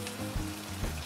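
Pork belly fries in hot oil in a pan over medium-low heat, giving a close, steady crackling sizzle with soft pops.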